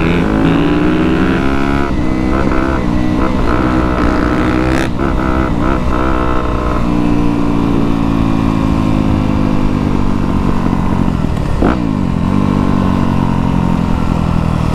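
A motorcycle engine revving hard during wheelies at a drag race, loud and close, with rising and falling pitch sweeps, throttle blips and gear changes, droning without a break across the whole stretch and no talk.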